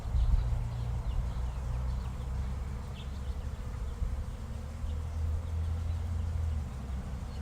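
Honeybees buzz steadily around a healthy beehive with freshly drawn wax comb, a dense continuous low drone close by, with no voices.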